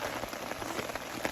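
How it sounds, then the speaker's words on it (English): Rain on the Appalachian Trail pattering steadily onto surfaces close by, a soft dense hiss with small drop ticks and no voices. "we're going to be walking in the rain to get to that shelter"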